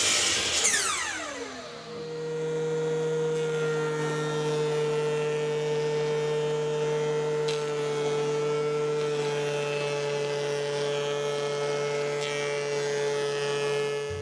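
A planer spins up and then runs steadily as wood parts for a bathroom vanity face frame are planed. A sweeping rise in pitch gives way to a loud, constant tonal hum and whine that fills about fourteen seconds.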